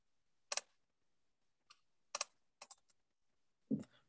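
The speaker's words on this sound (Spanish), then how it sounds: "Voy a darle clic." Several sharp computer mouse clicks, one a quick double, come in short separate bursts against near silence while someone works in mapping software.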